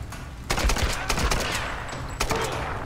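Bursts of gunfire from the Tomb Raider video game, several sharp shots in quick clusters and then a later volley, loud and close with no talk over them.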